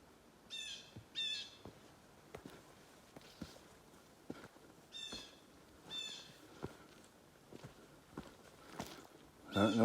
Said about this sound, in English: It's kind of nice to hear some birds.